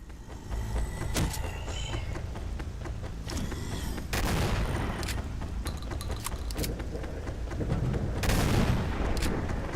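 Repeated gunfire bursts in Ashes: Blackwater, a Doom mod, loud and sustained with sharp cracks amid constant noisy game action.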